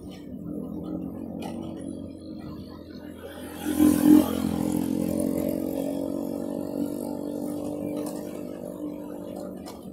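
A motorcycle engine rumbles through busy road traffic near the Cileungsi river and Cipendawa bridge, swelling briefly as it passes close, with muffled voices underneath.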